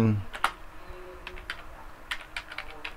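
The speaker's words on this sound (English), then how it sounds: "We're talking, I'm typing." Quick bursts of keystrokes on a computer keyboard, clicking in short irregular clusters near the mic during a live coffee chat stream, with a brief voice at the start and a quiet room underneath.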